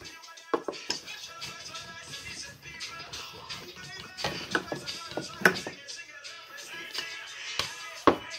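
Hands press and pat soft pea-studded dough flat on a stone surface, with irregular muffled taps and thumps, a few sharper knocks, and occasional soft shuffling close by.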